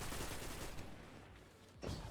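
Rapid video-game gunfire from a weapon called the Summoner crackles in a dense burst of shots, with a brief lull and then a fresh flurry near the end.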